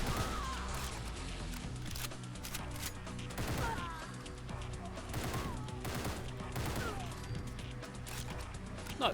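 A burst shotgun in Fallout 4 fires incendiary rounds in rapid, booming volleys of shots, layered with crackling fire effects and metallic mechanism clicks, dense and continuous throughout.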